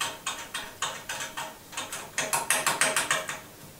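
Resistance screw on 3D-printed sim racing hardware being tightened, giving a steady run of evenly spaced ratcheting clicks, close and fairly loud, speeding up slightly toward the end with no talking.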